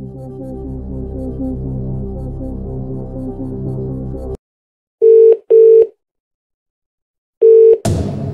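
Phone-a-friend lifeline in the Who Wants To Be A Millionaire video game, Family Picture Edition: a steady dial tone cuts off, then three short beeping tones sound, followed by a burst of noise.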